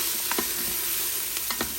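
Onion sautés in an Instant Pot with a continuous close sizzle, and a utensil stirs it now and then with soft scraping.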